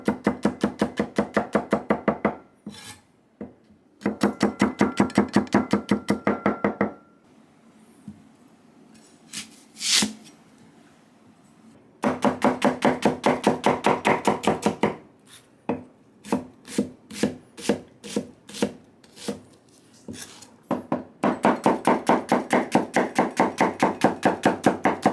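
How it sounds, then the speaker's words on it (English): A knife chops ingredients for homemade pizza sauce on a board, with fast, even bursts of close, crisp strikes separated by brief pauses and a few slower, spaced cuts. "So let's get chopping, and here's a 20-second ASMR."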